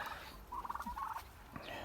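Turkeys on a Ukrainian farm, including bronze birds, let out a short burst of rapid gobbling, fairly faint against quiet background noise.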